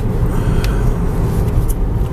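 A 2006 Toyota Corolla LE accelerates during a 0-60 mph run, heard from inside the cabin as a loud, deep engine drone mixed with road rumble, holding steady and unbroken through the pull.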